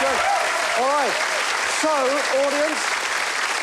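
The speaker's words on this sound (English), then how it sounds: "Round of applause for Jenny" A studio audience applauds in a dense wash of clapping while someone speaks over it in short phrases.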